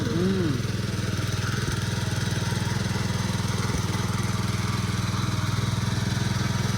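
A small power weeder engine runs steadily on a farm, giving a loud, close, even drone. A voice is briefly heard at the start.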